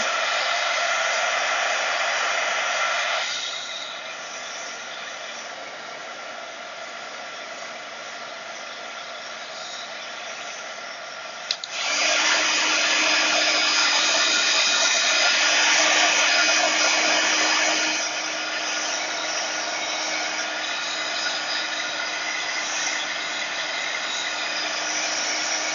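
Hair dryer blowing steadily on a handmade paper card, a loud continuous whooshing hum that shifts between two speed or distance levels, with no talking.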